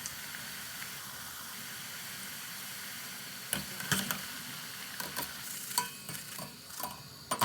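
Potato slices for homemade chips frying in hot oil, a dense steady sizzle with crackling pops and a few sharper stirring clatters in the second half, no voices.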